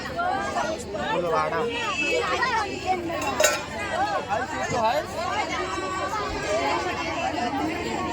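Dense crowd chatter at a coastal village festival's lucky draw, many voices overlapping in a loud, continuous babble close around, with occasional clinks.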